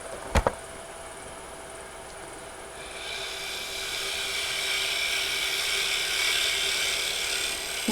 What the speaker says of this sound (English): I'm getting a shear scraping cut then. Give me a very, very clean cut.